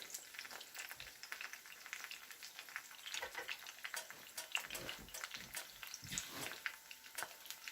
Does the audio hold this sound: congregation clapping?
no